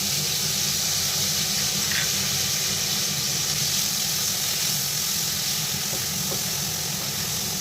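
Onion paste from two large onions hits a hot pan for a Bengali rohu fish curry, giving a steady, loud, dense sizzle and hiss that runs unbroken throughout with no talking.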